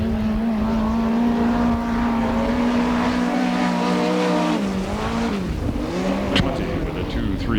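USAC midget race cars roar around the Perris dirt track, a loud sustained engine drone with shifting pitch as they pass, heard under an announcer's commentary.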